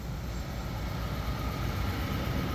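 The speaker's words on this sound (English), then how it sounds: "Listen to that V8 engine." A 2023 Nissan Titan Pro-4X V8 engine runs steadily at a close distance, a deep continuous rumble with no change in pitch and no voices.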